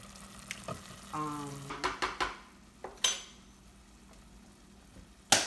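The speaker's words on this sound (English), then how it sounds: "And then I'm going to continue to saute that." Sautéing vegetables in a pan for arroz con gandules, giving a soft steady sizzle broken by several sharp clinks and scrapes of a utensil against the pot.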